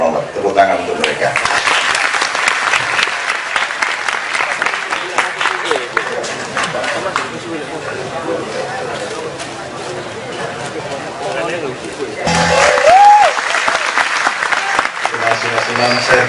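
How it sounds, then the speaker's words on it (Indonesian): An audience applauds in a large hall, a dense, sustained wash of clapping that carries for over ten seconds before fading, followed by brief talk. "Tepuk tangan untuk mereka."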